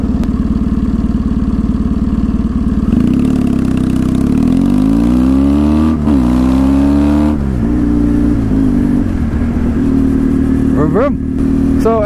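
A car pulls away from a traffic light, its engine revving up through rising gear sweeps, loud and close, while a person talks over it at the start.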